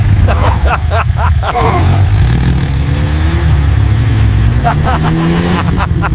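A motorbike engine revs loudly and steadily in a village setting, its droning pitch rising and falling throughout the whole stretch.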